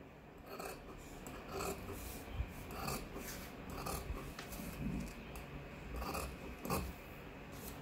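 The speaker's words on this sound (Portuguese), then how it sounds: "Cortei aqui, agora eu vou cortar aqui" Scissors cutting through fabric for a circle skirt at a sewing table, a continuous close rasping with repeated snipping strokes at an uneven rhythm, fairly quiet, with no talking.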